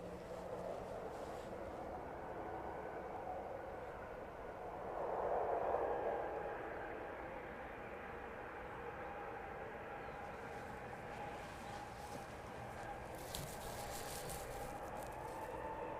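An Atlas Air Boeing 747 cargo plane taxiing at East Midlands Airport, a faint distant jet whine and rumble that swells briefly then holds steady, heard from afar.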